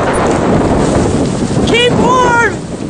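A strong blizzard wind roars across the Illinois prairie, heavy and constant buffeting on the microphone, while a man calls out briefly near the end.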